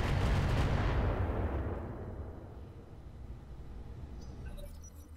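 Mech alpha strike weapons fire in the video game Roguetech, a loud booming volley at the start that rumbles and fades into a lingering low tail.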